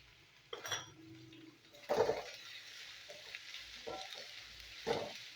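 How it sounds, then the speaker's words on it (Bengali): Onions and chopped green chillies with a little salt frying in a pan, a soft steady sizzle with a few stirring scrapes and clinks of a utensil against the pan, close by and without talk. "পেঁয়াজটা আমি ভেজে নেবো।"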